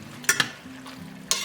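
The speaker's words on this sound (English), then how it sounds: "And I'm going to give those a good stir." Enchilada sauce, tomato sauce, turkey and rinsed black beans stirred in a pan, with a few sharp utensil scrapes against the pan over a faint ongoing simmer, near and without talk.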